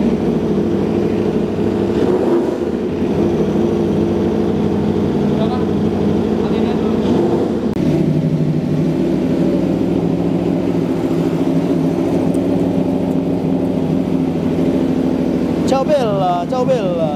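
An Aprilia RSV4 superbike, warmed up, idles steadily and loudly throughout with a low rumbling hum, with a brief rise in pitch near the end like a short rev.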